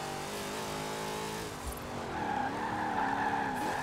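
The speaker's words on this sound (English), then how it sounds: "I just want to be able to power slide this thing everywhere." A van built for drifting power slides in Forza Horizon 4, its engine droning steadily while the tires squeal loudly through the slide, with the squeal rising and holding in the second half.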